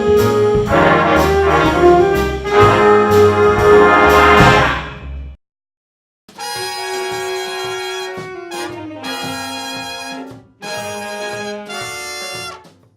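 A high school jazz band plays a big-band chart, horns and rhythm section loud and full, with a brief pause midway before the ensemble comes back in short punchy phrases.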